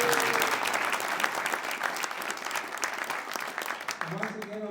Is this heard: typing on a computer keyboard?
no